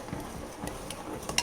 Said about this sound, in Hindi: हम इसे उबलने तक चलाते रहेंगे